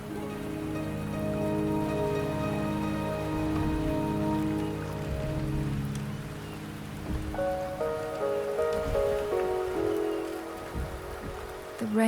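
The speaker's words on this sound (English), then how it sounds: "The rain is subsiding, and the sky will soon clear." Rain falls steadily in the Wuthering Waves game, a continuous hiss of drops layered under sustained musical tones that shift midway, constant and fairly loud.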